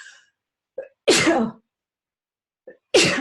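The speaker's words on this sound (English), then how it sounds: "I'm going to sneeze too. The sneeze is coming." Two loud, sharp sneezes, each preceded by a quick inhaled gasp, separated by a couple seconds of quiet; close and clear with no talking.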